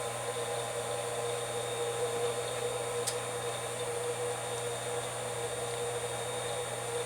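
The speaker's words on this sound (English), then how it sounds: "The spindle is on, the VFD is running, and the water pump is humming under the table." A CNC router's spindle, driven by a VFD, runs with a water cooling pump under the table, making a steady electrical hum with a high whine that holds level throughout, with one brief click partway through.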